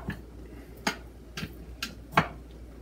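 A knife chopping broccoli stems on a board for Thai panang curry, five sharp, evenly spaced taps about half a second apart, close and clear against a quiet background.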